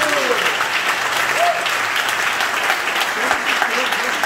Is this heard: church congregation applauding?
yes